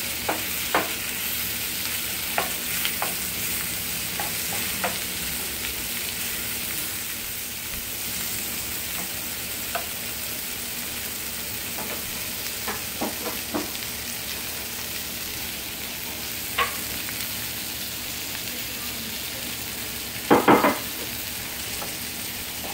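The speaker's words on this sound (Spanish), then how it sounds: "Que se dore un poquito aquí con la cebolla." Poblano chile strips and onion fry in oil in a pan, a steady close sizzle throughout with scattered spoon-stirring clicks and scrapes, and a brief louder clatter of stirring near the end; no talking.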